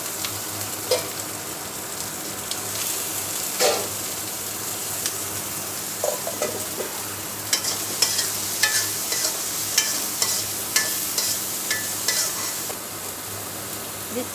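Gourd seeds stir-fried in a pan for a mashed bhorta dish, with a steady dry sizzle and scattered scraping taps of the spatula, fairly close and continuous with no talk.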